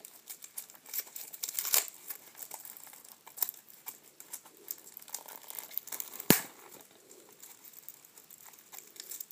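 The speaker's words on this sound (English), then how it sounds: "I'm just unwrapping the whole thing." Someone unwraps a DVD package, tearing off its plastic: steady close crinkling and rustling with two sharp, louder snaps of the wrapping.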